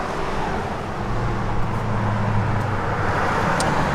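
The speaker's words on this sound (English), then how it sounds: "it's actually got dual exhaust with stainless mufflers" 1956 Chevrolet 210 running with dual exhaust and stainless mufflers, a steady low rumble heard close and loud throughout, with a broad wash of noise over it.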